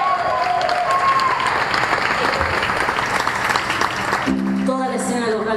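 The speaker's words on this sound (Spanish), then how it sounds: "aplauso por favor al mejor stage del mundo" Audience at a live show in an auditorium applauding, a dense, loud wash of clapping and crowd noise throughout, with voices mixed in and a brief tonal sound near the end.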